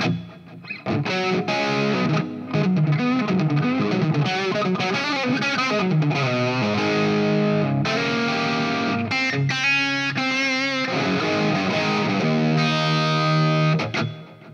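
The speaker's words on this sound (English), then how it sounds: "Add a little bit of reverb and echo." Distorted electric guitar played through a Hughes & Kettner ACCESS tube preamp with reverb and echo added, a continuous run of chords and single-note lines with a washy delayed tail, loud and alone throughout.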